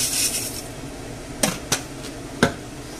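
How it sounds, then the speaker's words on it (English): Chicken soup pot as soup noodles go in and get stirred: a few sharp clinks and taps of a utensil against the pot, spaced out over steady background hiss, with no talking. "to add the soup noodles"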